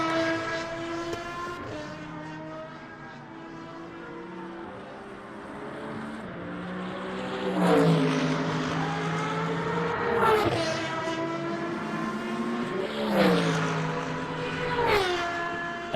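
Aston Martin race car in the Le Mans Ultimate racing game, its engine note climbing and dropping through gear changes with recurring revving surges, steady and fairly close with no talking.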